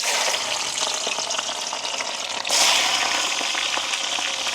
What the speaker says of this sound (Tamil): வட்டி வச்சிருக்கிற உள்ளியையும் போட்டு பொரிப்போம்